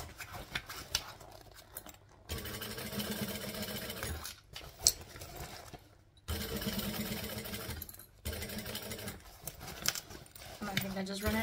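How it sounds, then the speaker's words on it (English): A sewing machine stitches a hacked siren bag in several runs of rapid, steady whirring, broken by brief pauses, with handling clicks and a voice talking over it close by. "I'm actually going to go from this side and stitch it this way"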